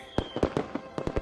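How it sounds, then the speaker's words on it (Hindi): Fireworks prepared as a birthday surprise pop and crackle in a quick series of about eight sharp bursts, fairly close and loud, with no talk over them. "उस आतिशबाजी की जो तुम्हारे लिए तैयार की मैंने।"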